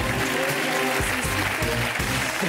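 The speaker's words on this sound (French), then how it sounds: "On l'applaudit, elle a trouvé," A TV studio audience claps in a dense, steady burst, with music and a voice running underneath.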